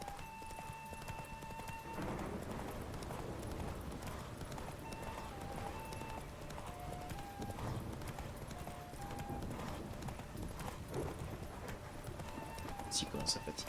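Horse hooves clip-clopping at a run in The Witcher 3, a steady rapid patter that continues throughout at moderate level under a continuous background score.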